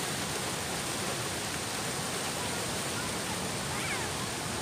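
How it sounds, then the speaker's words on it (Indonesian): Large ocean waves at high tide give a loud, steady roar of breaking surf, close and continuous throughout with no distinct individual crashes, and no voices rising above it. "Ini kebetulan ombaknya lagi besar sekali nih"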